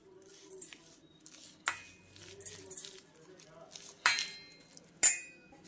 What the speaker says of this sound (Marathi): आणि यामध्ये घालायचे आहे आपल्याला जिरे आणि हे एकजीव करून घ्यायचं आहे आपल्याला